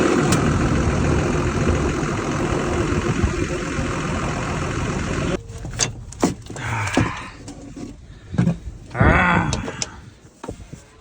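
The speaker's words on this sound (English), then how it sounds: "Harvey's just going to turn the tractor on" A New Holland T7.210 tractor engine runs steadily at a close, loud idle for about five seconds, then cuts out, leaving scattered knocks and rustles.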